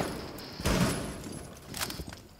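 Gunfire in a battle-royale style shooter game: a short burst of shots rings out, then a second, fainter volley follows a moment later, with no talk over it.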